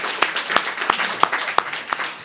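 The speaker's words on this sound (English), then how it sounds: "So first of all, clap to yourself." Audience clapping at a GraphQL meetup in Amsterdam, a handful of sharp, evenly spaced claps over a faint crowd murmur, with no talk.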